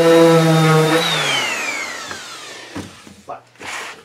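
A wood router used on beech winds down from a loud whine, its pitch sliding steadily lower as it fades. A few dull knocks and handling noises follow near the end.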